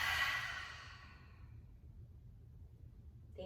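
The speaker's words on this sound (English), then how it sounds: "We'll take a cleansing breath together to seal in practice." A deep cleansing breath exhaled through an open mouth at the end of a vinyasa yoga practice, a single soft airy whoosh that fades within about a second and a half over a low background rumble.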